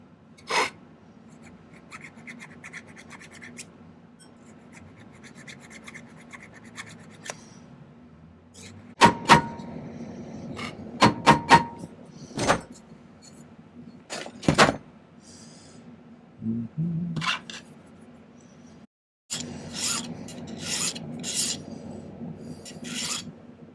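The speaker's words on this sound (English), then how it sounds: "Just removing a little bit of excess solder on the inside." A hand file rasps excess solder from the inside of a silver ring in short, sharp, close scraping strokes with pauses between bursts.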